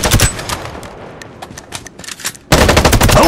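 Gunfire in the shooter game Farlight 84: rapid automatic bursts at the start, sporadic shots in the middle, then a loud, sustained volley of fire.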